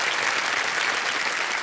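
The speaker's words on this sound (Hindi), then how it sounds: "तालियां बजाना चाहेंगे आपके लिए" A studio audience on a TV quiz show claps in a dense, steady burst of applause throughout, loud and close with no voices over it.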